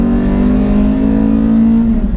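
A cammed Renault Clio 182 engine drones loud and close at steady high revs, a strong constant hum with no voices.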